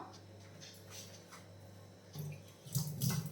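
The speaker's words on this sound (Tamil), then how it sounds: "கொஞ்சம் தண்ணி சேர்த்துக்கலாம்" Water is poured into a batter containing baking soda for a quick breakfast dish in a home kitchen: quiet background at first, then a near, splashy pour builds over the last second or so, with no talk.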